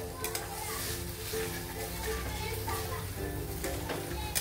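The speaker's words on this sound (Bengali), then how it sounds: "ভালো করে চিকেনের সঙ্গে ভেজে নেব চালটা" Rice fried together with chicken in a pan for chicken yakhni pulao gives a steady soft sizzle over a raised gas flame, with faint scraping and stirring throughout.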